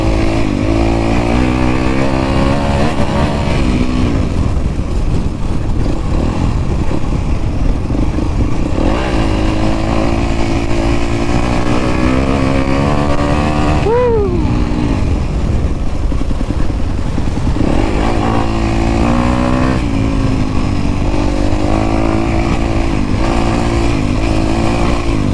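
A dirt bike engine revs loudly and continuously while being ridden on a trail, with rising and falling pitch as the throttle opens and closes, plus a sharp rev spike near the middle.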